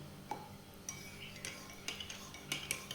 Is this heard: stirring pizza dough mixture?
yes